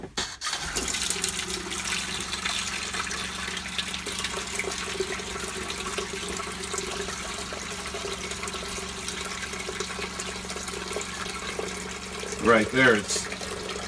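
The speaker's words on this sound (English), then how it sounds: "So what we plan to do is to use a jug to catch some of that water" Hot tap water runs steadily into a jug inside an RV, a continuous close rushing and splashing stream that goes on for many seconds, with brief talking near the end.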